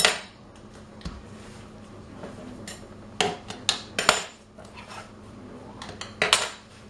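A knife trims pastry edges around a mince pie dish, giving scattered sharp clicks and scrapes of metal against the dish. Quiet gaps sit between the taps, with a brief cluster of louder knocks near the end.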